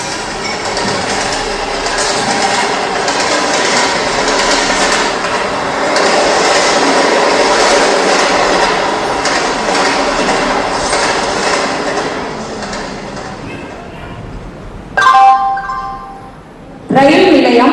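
A train runs along the rails with a steady broadband rumble and faint clatter for most of the stretch, then fades before a couple of sharp louder bursts near the end.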